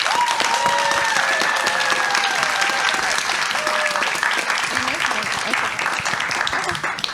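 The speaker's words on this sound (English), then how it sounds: "Please give a big round of applause to Justine." An audience at the CARE 2025 lightning talks claps steadily and loudly throughout, a dense continuous applause with faint voices mixed in.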